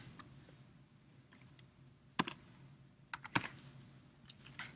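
Fingers type an assignment title on a computer keyboard, with soft scattered key clicks and a few sharper, louder taps, close and quiet with no talking.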